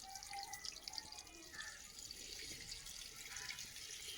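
Faint water splashing and trickling as plants are watered heavily at home, a soft continuous flow with small drips, quiet and somewhat distant.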